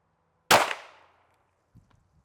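A single sharp pistol shot from an Arex Delta Gen. 2, loud and close, with a short decaying ring, followed by a faint clink and small handling sounds.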